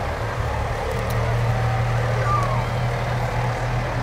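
Fire department trucks rolling past in a parade, a steady low engine rumble with a constant hum and faint high whines above it. The sound carries on without a break and people talk nearby.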